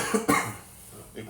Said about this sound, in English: over here coughing like he got that corona